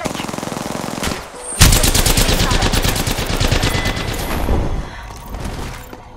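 Heavy automatic gunfire in the Apex Legends video game: after a brief lull, loud, close, rapid continuous bursts rattle on for several seconds without a break.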